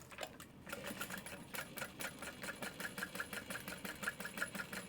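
Sewing machine running steadily while stitching a curved bag seam with a 3/8 inch seam allowance on a backpack-style bag, a close, continuous mechanical whir with a fast regular needle rhythm throughout.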